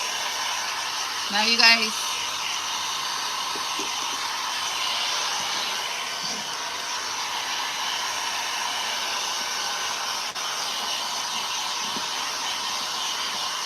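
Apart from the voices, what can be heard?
hair dryer drying a thrift-flip frame craft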